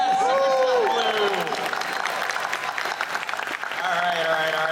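Sustained applause and cheering from a convention crowd at a fursuit dance finals, loud and close throughout, with a voice calling out over the clapping at the start and near the end.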